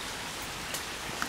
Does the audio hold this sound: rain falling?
yes